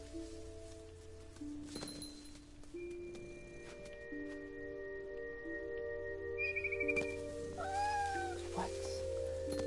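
A cat meows several times in What Remains of Edith Finch, rising, wavering cries against soft sustained game music and ambience, fairly quiet overall.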